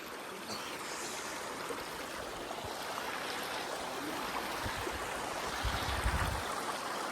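Mountain stream water runs down a Himalayan trekking trail near Kasol, Himachal Pradesh, a steady broadband rush that holds constant throughout with a few louder splashes or bumps near the end.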